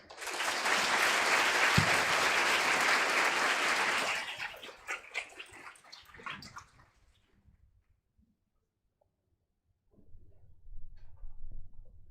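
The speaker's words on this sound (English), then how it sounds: "give them a big round of applause" A crowd applauds loudly for a voice choir at a school speech day for about four seconds, then the clapping thins to scattered claps and fades to silence before faint noise returns.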